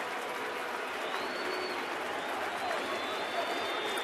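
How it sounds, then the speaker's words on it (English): Baseball crowd at an ALDS Game 5 in October 2011 chanting for pitcher Boone Logan in the fourth inning, a dense, steady roar of many voices filling the stadium with no break. "Crowd chanting Boone, trying to get Boone Logan through this 4th inning."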